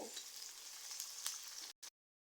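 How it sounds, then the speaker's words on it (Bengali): Chopped onion and green chilies fry in oil for a bottle gourd greens stir-fry, giving a soft, steady hiss with faint crackles and a few light stirring scrapes. The sound stops abruptly, a brief burst follows, then silence. "পেঁয়াজ কুচি কাঁচা মরিচ মরিচটাকে ভেজে নিব"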